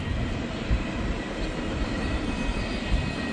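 Fast trains roar past steadily through the Kentucky countryside, a loud continuous rumble of rolling cars and wheels with no pauses, close by and without talk.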